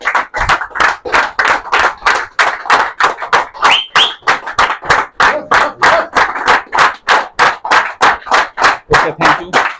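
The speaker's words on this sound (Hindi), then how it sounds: "एक जोरदार ताली के साथ हम लोग स्वागत करें अपने मेंटोर विधान मल्लिक सर" An audience at a meeting claps in welcome of a mentor, with about thirty loud, evenly spaced claps in a steady rhythm throughout.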